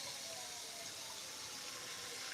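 Hot water runs steadily from a tap on a kitchen setup used during a power outage, a faint even hiss of flowing water with no break.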